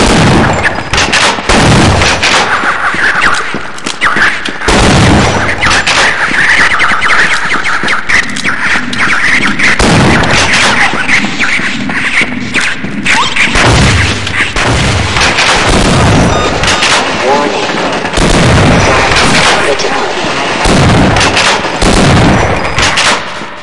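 Shotgun fire in the Half-Life video game, with dense, loud repeated blasts and booming impacts running almost continuously, close and heavy, with no talking.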